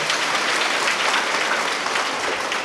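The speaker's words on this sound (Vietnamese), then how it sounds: "Cho nhau một tràng pháo tay lớn đi anh chị ạ" A church congregation gives a big round of applause after a prayer at an Advent gathering, dense loud clapping filling the whole short burst.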